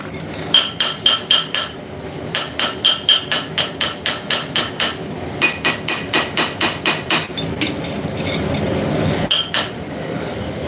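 Forging hammer ringing on a small travel anvil in a workshop, bright metallic strikes in quick rhythmic runs of several blows with short pauses between them, loud and close.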